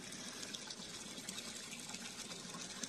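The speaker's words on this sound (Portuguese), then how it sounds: "Eu vou botar só um pouco de água aí" Water gushes from a container into a bucket, a steady, close pouring splash that continues for the whole short stretch without talk.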